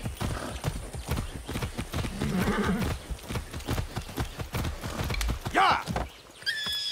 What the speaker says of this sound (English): distant horse.